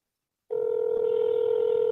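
A telephone call placed to a fast-food restaurant, a steady electronic ringback tone starting abruptly after a brief silence and holding clear and alone.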